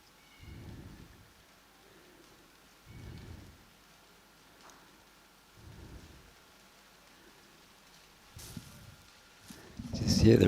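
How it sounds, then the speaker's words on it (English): Rain falling during a junior horse event, with low rumbles of thunder rolling in at intervals and the rain swelling louder near the end; a voice speaks faintly in the background. "Just hear the rain starting again."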